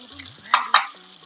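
Masala for a Hogenakkal-style fish curry is stirred in a pan over a low flame, with two short sizzling, scraping bursts from the spoon against a quiet hum of background noise.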